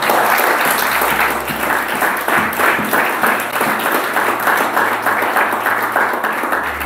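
A church congregation applauds Jesus at a worship service: steady, dense clapping from many hands fills the room, loud and continuous throughout, with a few faint voices mixed in.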